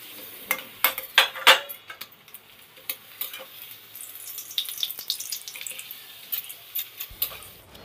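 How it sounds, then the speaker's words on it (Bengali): Papad fries in hot white oil at close range, giving irregular sharp crackles and pops with quieter sputtering between them. "চলো পাঁপড়গুলো একটুখানি ভেজে আগে রেখে দিই।"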